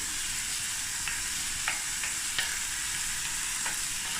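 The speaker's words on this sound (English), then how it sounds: "while the onions is frying, let me just show you" Onions fry in a pot for a cauliflower stew, a continuous close hiss and sizzle with a few faint scrapes of stirring.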